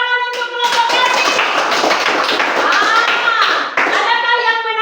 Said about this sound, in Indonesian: tepuk tangan untuk kelompok kasih